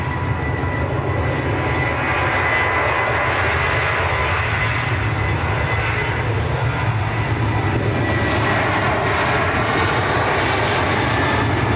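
A Ryanair jet airliner rolls for takeoff at Manchester Airport, a loud continuous engine roar that holds steady and swells for several seconds, heard from a distance outdoors.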